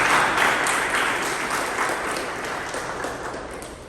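Steady applause from a meeting audience for the timer, counter and grammarian, a full round of clapping that fades gradually over a few seconds.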